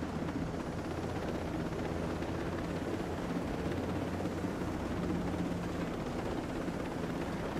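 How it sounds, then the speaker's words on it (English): A helicopter in Ghost Recon Breakpoint gives off a steady, loud rotor and engine roar that fills the whole stretch without letup, with no voices. "So get in the damn helicopter."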